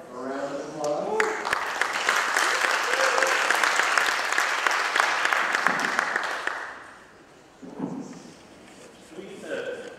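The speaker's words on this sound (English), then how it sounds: "Round of" An audience at a summit demo slam breaks into loud, sustained applause lasting several seconds before dying away, with a voice briefly before and after it.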